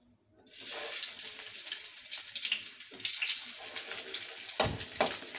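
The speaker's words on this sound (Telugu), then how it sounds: "ప్యాన్లో ఆయిల్ వేసాను. ఇప్పుడు ఉల్లిపాయ ముక్కలు," Onion pieces sizzle loudly in hot oil in a pan, a dense steady crackle starting abruptly and continuing throughout, with a couple of clatters near the end.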